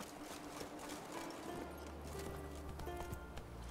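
Roach's hooves clip-clop faintly in The Witcher 3, a soft, quiet rhythmic patter over low game ambience.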